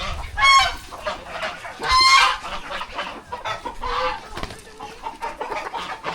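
A chicken clucks and squawks in two loud bursts near the start, followed by softer clucking and rustling close by in a quiet outdoor setting.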